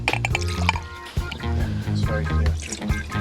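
One cup of water pours into a cooking pan, a continuous liquid splashing and filling sound over a background of steady tonal music.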